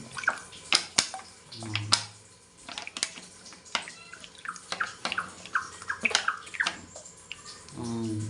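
Running water splashes and trickles from a cat's water fountain, close by, with scattered drips, clicks and handling knocks over a steady flow.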